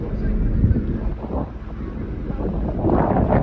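Strong wind buffets a ship's observation deck while sailing into Namsos Fjord, a constant loud roar and rumble on the microphone with gusts swelling toward the end.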